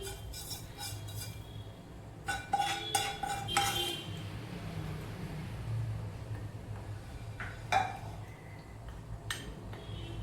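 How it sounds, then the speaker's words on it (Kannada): Fried ingredients for a quick kajjaya sweet are mixed in a mixing bowl, with a spoon scraping and clinking against it in short bursts, several sharp clinks standing out over a quiet, steady background. "ಇದು ಮಿಕ್ಸಿಂಗ್ ಬೌಲ್ ಇದೆಯಲ್ಲ ಅದಕ್ಕೆ ಹಾಕ್ಕೊಂಡು ಬಿಡೋಣ ಅದನ್ನು ಹಾಕ್ಕೊಂಡು ಮಿಕ್ಸ್ ಮಾಡ್ಕೊಂಬಿಡೋದು"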